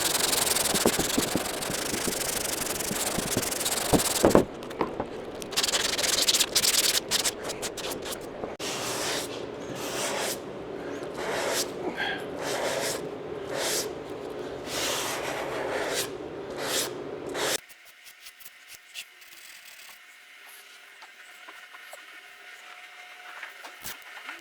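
Hand sanding of car body filler with sandpaper on a dent repair, moving from 180 grit to 320 grit around the edges, gives repeated close scratchy rubbing strokes in rhythmic bursts, ending with a quieter, thinner scraping stretch.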